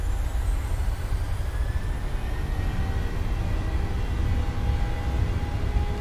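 Airliner jet engines spooling up to takeoff thrust on a gusty crosswind departure, a loud, steady roar with a faint rising whine that holds throughout, with no talk.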